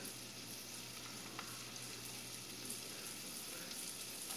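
Shredded beef with onions and bell pepper fries in a pan, making a steady, even sizzle with faint stirring clatter and no voices.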